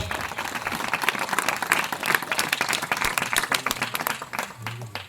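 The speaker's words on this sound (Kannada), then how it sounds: "ಚಪ್ಪಾಳೆ ತಟ್ರು ಜೋರ" A church congregation claps loudly together, dense rapid applause filling the room throughout, close and sustained, with a few faint voices mixed in.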